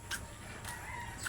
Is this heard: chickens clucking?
yes